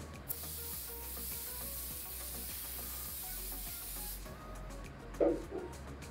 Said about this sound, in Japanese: スプレーを振っていきます